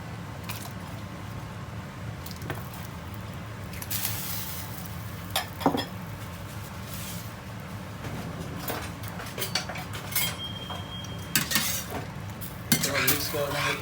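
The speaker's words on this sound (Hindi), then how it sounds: "मिक्स कर देंगे ताकि नमक मिक्स हो जाए, हमारा हल हो जाए उसके अंदर।" Sliced potatoes for chips are stirred in a pot of salted water with a spoon, giving repeated metal scrapes and clinks against the pot over a steady low bubbling background.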